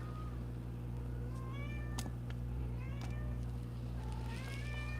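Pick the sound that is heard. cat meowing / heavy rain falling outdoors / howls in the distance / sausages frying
cat meowing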